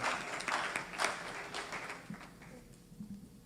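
An audience at a faith and culture panel discussion claps in a dense, steady round that gradually fades and thins toward the end.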